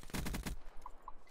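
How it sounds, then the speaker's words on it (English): A fast, loud burst of submachine gun fire in a gun-game round of a video game, about six rapid shots followed by a couple of faint game tones. "we're on the submachine gun"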